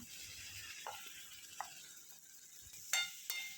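Finely chopped onion frying in hot oil in a kadhai on a gas stove for a Konkani dried-shrimp recipe, a faint steady sizzle broken by a few soft clinks of a spoon stirring.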